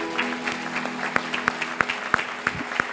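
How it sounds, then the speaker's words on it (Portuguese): Rhythmic clapping from a church congregation keeps a steady beat over a soft, sustained musical tone, moderately loud and close. "Um forte aplauso"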